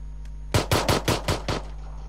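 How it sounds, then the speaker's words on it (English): Six rapid shotgun blasts ring out in a video game, evenly spaced and loud, each with a short decaying tail, following a faint click. "that shotgun is awesome"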